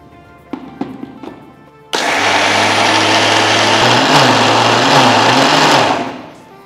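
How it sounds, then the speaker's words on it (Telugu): A kitchen mixer grinder blending soaked rice and urad dal into batter starts after a few clicks, then whirs loudly and steadily for about four seconds, its pitch dipping slightly as the load shifts, before winding down. "సో మనం ఇప్పుడు మిక్సీలో రుబ్బుతున్నాం కదా"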